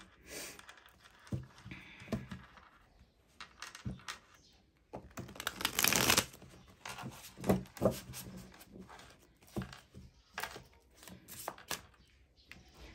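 Tarot cards are shuffled in bursts of riffling and slapping, with quiet gaps and a loud flurry in the middle, close and fairly soft.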